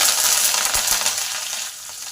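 Green chilli, nigella seeds, curry leaves and chana dal sizzle in hot oil: a close, steady, hissing fry on its own that eases off slightly near the end.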